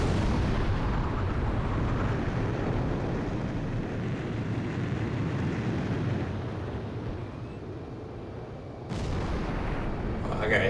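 Sustained roar of gunfire rounds and explosions in the Ace Combat 5 air-combat video game, a dense, continuous rumble that stays loud throughout before a sharp jump in intensity near the end.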